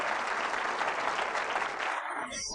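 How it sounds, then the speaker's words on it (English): Congregation at a church service applauding loudly, a dense continuous clapping that cuts off abruptly near the end. "A loud round of applause for the Lord and Savior, Jesus Christ."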